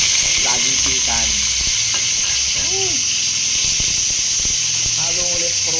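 Snails and laing (taro leaves) in coconut milk sizzle and bubble steadily in a pan while being stirred, with a constant hiss throughout and people talking over the cooking.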